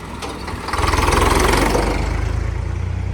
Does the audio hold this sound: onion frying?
no